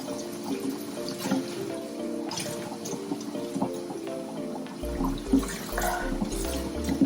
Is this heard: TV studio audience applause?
no